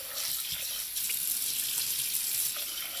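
Water runs steadily from a tap over turkey giblets in a pot, a constant close hiss and splash with no voices.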